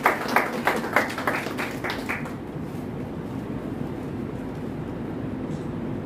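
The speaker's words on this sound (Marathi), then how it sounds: "त्यांच्याकरता जोरदार टाळ्या वाजवा" A crowd at a memorial gathering for Mata Ramai's 90th death anniversary claps in a steady rhythm for about two seconds. The clapping then fades into a dull, rumbling room murmur.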